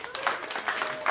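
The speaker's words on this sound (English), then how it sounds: "Clap if you know who Suge Knight is." A comedy club audience at the Laugh Factory gives a short, scattered burst of clapping, a few hands patting together for about a second.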